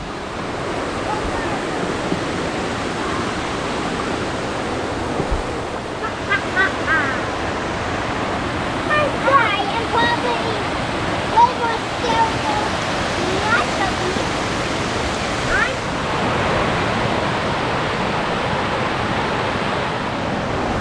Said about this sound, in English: Well, we've made it down to the falls. There's just a bunch of different falls going through here.